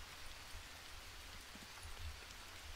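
Steady rain in the jungle survival video game Green Hell falls as a soft, continuous hiss with faint scattered drops, uniform throughout and without any voices.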